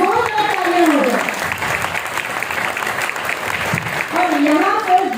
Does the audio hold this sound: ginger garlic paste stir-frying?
no